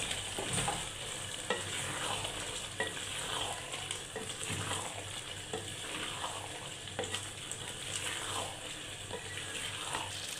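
Beef keema and half a kilo of finely chopped potatoes are stir-fried in a pan, with a continuous close sizzle and frequent scraping stirs of the spoon and no speech.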